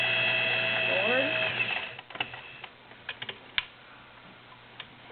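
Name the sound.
vintage Singer 401A Slant o Matic sewing machine stitching forward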